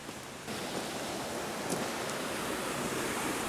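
A small stream pours over a drop-off beside an old cutlery-grinding site, a steady rushing splash that swells a moment in and stays loud and continuous, with no voices.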